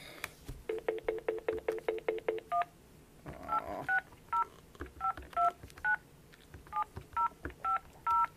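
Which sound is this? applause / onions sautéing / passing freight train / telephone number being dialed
telephone number being dialed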